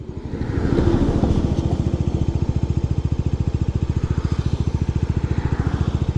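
A 250cc city motorcycle in second gear chugs slowly and steadily at low revs, its rapid even pulses thumping close by.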